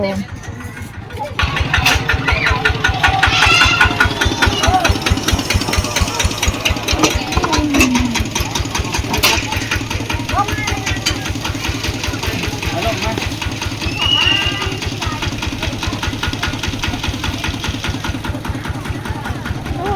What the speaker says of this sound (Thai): รถไถมาฮอดแล้ว